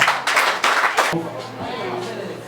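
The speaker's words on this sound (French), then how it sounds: "C'est pour cela que nous allons applaudir une fois pour toutes" An audience of students at an institute bursts into loud, dense clapping that fades after about a second, followed by a voice speaking over faint lingering applause.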